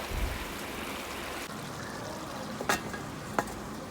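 Chicken mixture cooks in a pan, a steady soft sizzle with faint stirring scrapes and a couple of brief clicks, close and continuous.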